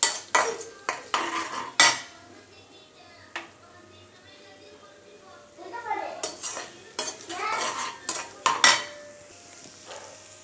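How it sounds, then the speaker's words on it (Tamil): Two eggs with a little turmeric are scrambled in a pan for Tamil-style egg rice, with a metal spatula scraping and clinking against the pan in bursts, soft sizzling underneath and faint voices nearby. "இது நல்லா ஸ்க்ராம்பிள் எக் மாதிரி பண்ணிக்கோங்க."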